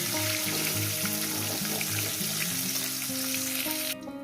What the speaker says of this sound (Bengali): আমি একেবারে ভেজে নিচ্ছি